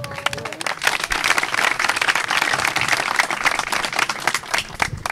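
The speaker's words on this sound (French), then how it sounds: "Sous vos applaudissements" A school audience claps to welcome a student presenter onto the stage, brisk continuous applause from a crowd lasting about five seconds with a brief voice at the very start.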